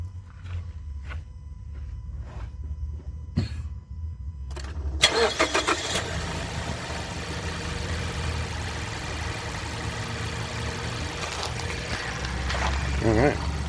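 A 2015 Mazda CX-5 with a 4-cylinder engine cranks and fires after a few quiet clicks and footsteps, then settles into a steady, close idle.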